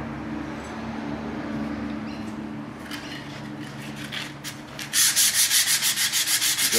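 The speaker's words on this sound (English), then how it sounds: "Then you use a bit of sandpaper on it." A lathe bed's rust spot is rubbed down by hand with 120-grit sandpaper: a soft scuffing at first, then a run of quick, even back-and-forth strokes up close.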